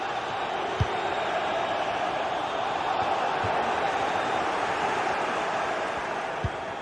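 Stadium crowd noise from a football video game, a steady broad roar of a large tense crowd filling the whole stretch, with a few faint thumps poking through.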